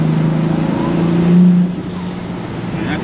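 Turbocharged 2JZ engine in a Nissan 240SX street car holds a steady, loud drone with a brief swell in the middle, then settles to a lower hum, close by.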